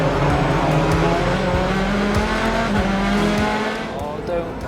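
A pack of BTCC touring race cars roars off the grid at a championship-deciding race start, engines screaming loudly and continuously as gears shift upward, with the dense, overlapping drone of many cars together.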